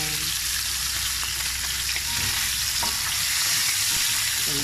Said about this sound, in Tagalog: Kung maging brown din yung garlic habang inuluto pa rin yung pork.